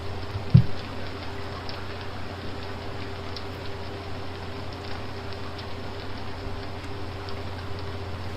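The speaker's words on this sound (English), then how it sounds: "I'm just kind of enjoying the sound of the rain" Steady rain falls in the video game Relic Hunter Legend, an even, constant hiss of drops with one brief knock near the start.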